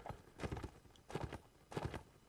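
Horse hooves clop on the ground in a Mount and Blade Warband line battle, the mount being a well-armoured horse with arrows in it; three bursts of steady clip-clop beats, close and fairly clear.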